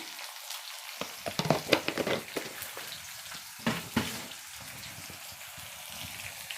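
Dried red chillies and vegetables fry in hot oil for a tomato curry, a steady close sizzle with bursts of crackling and spitting, and scraping stirs breaking in now and then.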